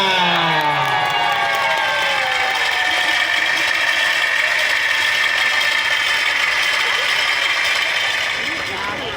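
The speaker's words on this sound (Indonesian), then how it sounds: "Mana tepuk tangannya." Women's rebana group audience at a mosque community (DKM) gathering clapping hands steadily together, a dense continuous patter with crowd noise and some cheering throughout.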